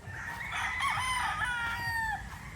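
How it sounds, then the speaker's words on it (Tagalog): A rooster crows nearby with a drawn-out, wavering call, while chickens cluck faintly in the background. "Mga gwapong mga manok dito mga boss"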